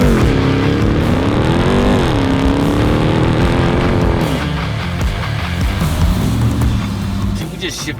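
A Hennessey Mammoth 1000 TRX, a 1000 hp truck, roaring on dirt with its engine revving up and down loudly and close, the pitch rising and falling across several passes.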